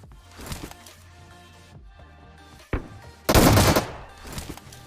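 S12 shotgun fire in a battle royale game: a sharp shot, then a loud, dense burst of gunfire that trails off, over quieter game ambience and scattered smaller bangs.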